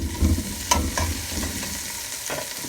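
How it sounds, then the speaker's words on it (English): Green onion and onion sautéing in oil in a pan, a soft steady sizzle broken by a few sharp scrapes and clinks of stirring. "So I've gone ahead and added my green onion, my onion, and my bandana. I'm going to saute that up for a little."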